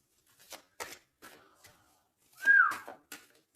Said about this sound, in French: Non, c'est pas bien siffler, pardon.